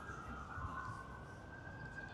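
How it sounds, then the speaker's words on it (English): An emergency vehicle siren on a Hollywood street in Los Angeles wails as a steady, slowly wavering tone, heard at moderate distance over street noise. "We've got our siren."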